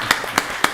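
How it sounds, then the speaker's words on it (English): Sharp, evenly spaced hand claps, three in quick succession, at a county board of commissioners meeting. The start of a round of applause rises close and clear over a quiet room. "let's give her a round of applause."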